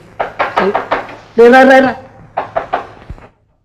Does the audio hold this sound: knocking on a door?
yes